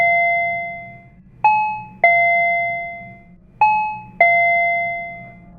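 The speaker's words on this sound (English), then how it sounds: "He rang the doorbell repeatedly, each ringing with an ominous ending." A doorbell chiming repeatedly, loud and close, with two pairs of bright ding-dong tones in an even rhythm, each ringing out and fading, over a faint low hum.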